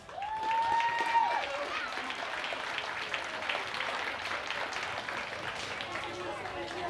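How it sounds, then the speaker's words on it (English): Sustained clapping from a crowd at a fair pageant rolls on at an even level, with a brief whistle near the start. "let's give these beautiful ladies a round of applause."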